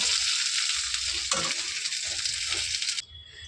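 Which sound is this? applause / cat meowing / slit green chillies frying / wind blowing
slit green chillies frying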